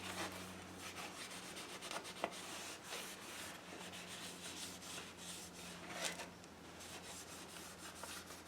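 A cloth rubbed over an old clock, a soft close scrubbing and swishing in uneven strokes with a couple of light knocks, quiet and without speech.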